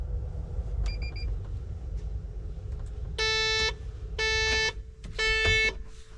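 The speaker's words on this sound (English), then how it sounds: "You hear the beeping." Several electronic beeps from a truck air conditioner control: a short faint one, then three longer loud tonal beeps in a row over a low steady hum.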